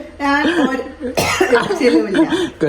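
A sharp cough from a person with fresh stitches bursts out mid-clip amid ongoing speech and vocal sounds, close and loud.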